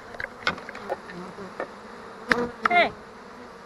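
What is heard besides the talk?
swarm of honey bees flying around the head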